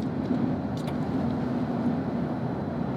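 A Chuo Shinkansen linear maglev train runs on its rubber tires, heard from inside the cabin as a steady, loud rumble with a low hum and faint rattles, with no voices.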